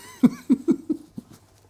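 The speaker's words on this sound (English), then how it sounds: "Did you cough on the pears?" Four quick coughs in a row, close and fairly loud, followed by a couple of fainter coughing sounds after a short pause.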